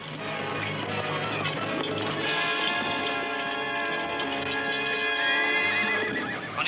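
A horse whinnies loudly while its hooves clip-clop steadily nearby, in an old black-and-white adventure series.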